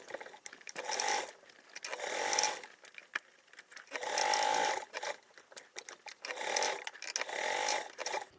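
A sewing machine top stitching a large foldable tote bag at a narrow seam allowance, running in several close, loud whirring bursts separated by short pauses.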